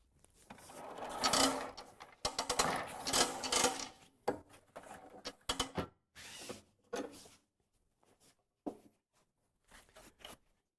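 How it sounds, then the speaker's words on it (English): Old hose being pulled out of an LDX hose reel: a run of close rasping, ratcheting bursts for the first few seconds, then shorter scattered scrapes and clicks with gaps of quiet. "The first step in this procedure is to pull out all of the old hose."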